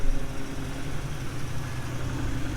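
A Ford Capri, an Australian car, idles close by with an exhaust leak from a missing bolt at a connection, giving a steady, rough, rumbling idle with no voices.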